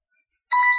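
A phone rings abruptly, sounding as a bright, sustained electronic chime that starts halfway through after silence and stays loud and close.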